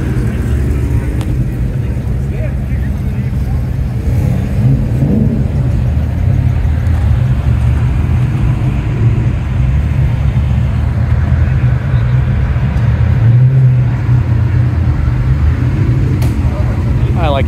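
A classic Toyota Celica drives around a car show at Radwood at The Amelia, with a continuous close engine rumble and whir alongside background traffic and faint voices.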